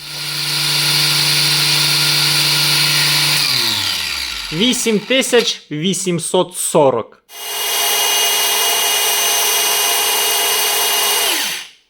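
A Chinese-made Bosch-branded power drill whines at high speed, spins down, then starts again with a few short stuttering bursts before running steadily once more; a voice speaks briefly.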